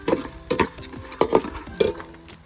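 A utensil stirs ingredients for Thai gaeng liang in a pan, giving several distinct scraping and clattering strokes at a loose, uneven rhythm, close and moderately loud.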